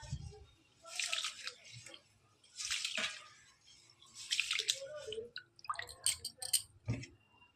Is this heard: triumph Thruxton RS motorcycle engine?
no